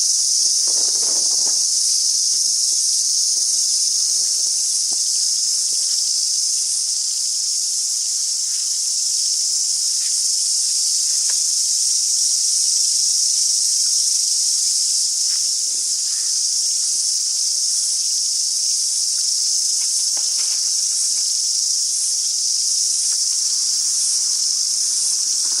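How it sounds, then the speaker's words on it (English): Cicadas in Marlborough Sounds, New Zealand, buzz in a dense, continuous high-pitched drone that holds steady throughout, with faint rustles and small background sounds beneath and no talking. "We'll just listen to these cicadas."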